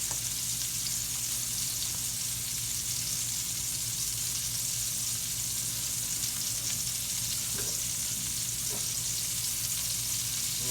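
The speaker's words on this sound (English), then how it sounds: "We're gonna let that brown just a little." Hamburger steak browning in a skillet, a dense, steady sizzle and crackle of frying meat that stays loud and close throughout, with only faint scattered pops and no talking.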